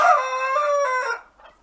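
A Silver Wyandotte rooster crows close by, one loud drawn-out call that trails off quickly at the end.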